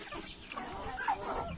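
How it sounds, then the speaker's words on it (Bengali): Fayoumi hens, an Egyptian laying breed, clucking softly on a small farm, a brief close-up burst of short, chirpy calls over a low background hum. "এই যে এটি আমার ফার্মি মুরগি। এই মুরগিটির জাত হলো তো মিশরি"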